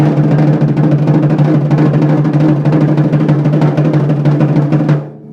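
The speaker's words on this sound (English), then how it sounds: "On a drum, my buzz roll sounds like this." A steady, dense drum buzz roll, smooth and continuous like a soft snare rattle, holding evenly for about five seconds before stopping abruptly.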